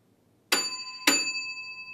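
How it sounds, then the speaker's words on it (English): A handheld exam bell at an anaesthesia oral examination is struck twice, half a second apart, each a clear metallic ding that rings on and slowly fades in a quiet room. "The exam bell will sound at the beginning of the exam"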